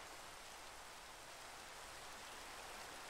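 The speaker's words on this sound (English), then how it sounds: "Oh my gosh, it's raining again." Steady Minecraft rain in autumn woods, a continuous even hiss of falling drops with no breaks and no talking, heard faintly in the background.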